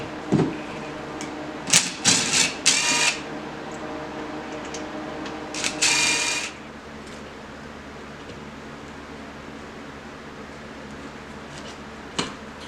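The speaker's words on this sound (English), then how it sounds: "let's take off all of our 10mm bolts out of my side cover." Ratcheting and wrench clicks sound as 10mm side cover bolts come off a Shaputis Hemi 212 paintball regulator, several short metallic bursts in the first six seconds, then quiet with one last click.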